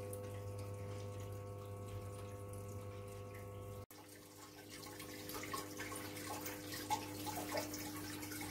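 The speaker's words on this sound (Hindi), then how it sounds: "देखिए फिर से पानी लेना इसने शुरू कर दिया है सेकंड रिंस के लिए।" An IFB front-loading washing machine draws in water for its second rinse while washing a blanket, a steady close rush of inflowing water with a low motor hum, shifting to a brighter splashing fill partway through.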